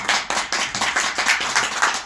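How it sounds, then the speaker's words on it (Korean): Audience applause at a regulatory reform party's regional founding rally fills the room with steady, dense clapping, loud and sustained with no talk over it. "박수 한 번 더 치고있습니다."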